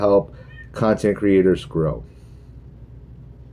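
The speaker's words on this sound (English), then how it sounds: "I am sorry if you hear a cat in the background." A female cat in heat meows several times in the background, drawn-out yowls mixed with and partly masked by a person talking over them, then fading to quiet room noise.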